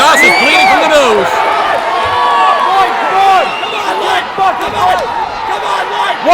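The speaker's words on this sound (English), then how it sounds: "They're chanting for Ethan Goss." A crowd at a CDMMA mixed martial arts event roars and chants for a bleeding fighter, a loud dense mass of voices with whoops and rising yells throughout.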